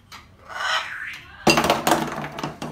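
Food dishes for a bird flock are handled, first a soft scraping, then a sudden burst of close clinks and clatters as they knock together.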